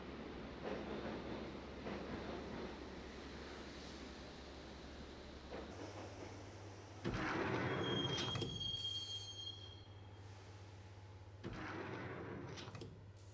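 Subway train ride in the Max Payne video game: a steady rumbling rail roar with metallic wheel squeals and screeches rising midway, loud and continuous, with no voices.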